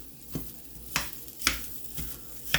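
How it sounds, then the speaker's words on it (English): A fork chopping potatoes in a sizzling pan for hash browns, sharp scraping knocks about every half second over a soft, steady fry. "Now we're going to cut them up with a fork."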